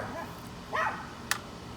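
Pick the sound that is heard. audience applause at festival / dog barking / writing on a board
dog barking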